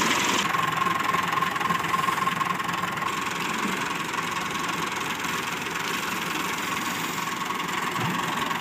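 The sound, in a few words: tubewell pump engine running on a farm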